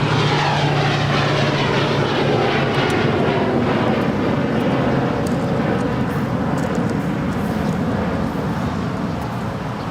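An American Airlines A321 airliner takes off from runway 25 right at LAX, a loud, continuous jet roar that builds and sweeps past and stays strong throughout.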